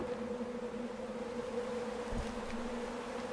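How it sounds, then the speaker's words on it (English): Hill creatures in the horror game Darkness Within 2 make a steady, droning insect-like buzz that holds evenly throughout with a low hum beneath and one faint dull thump. "some creatures called hill creatures that imitate human speech with a frightening buzzing sound"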